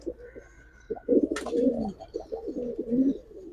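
Giribaz pigeons at a loft coo in low, throaty bursts, several overlapping rolling calls close by with a brief sharp click among them.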